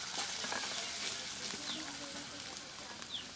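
Spices and green chilli paste fry in hot oil for a semolina cutlet recipe, a close, even crackling sizzle with occasional stirring scrapes and a couple of brief high clinks.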